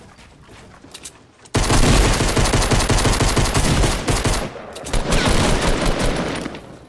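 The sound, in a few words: shotgun gunfire in a video game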